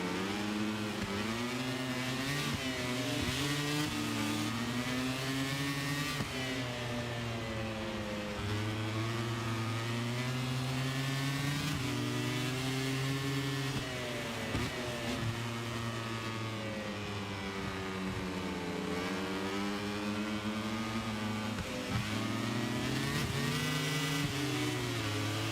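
Racing motorcycle engines in MotoGP revving loudly and continuously, with pitch rising and falling through gear changes across the whole stretch, close and dominant with no talking.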